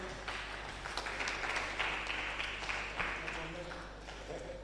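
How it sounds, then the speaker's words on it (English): Audience applause fills a physiology conference hall after a speaker is introduced, a steady broadband patter of many hands that holds at moderate, even loudness throughout. "A beautiful round of applause for Dr."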